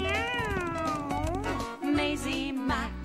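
A cartoon cat meows in a long, sliding, sung-like call, loud and close, with bright tinkling tones and other sounds layered beneath it.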